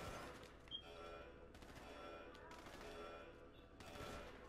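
Gunfire in the video game GTA crackles in repeated bursts across the clip, mixed with game noise and a steady background bed, with no clear talk over it.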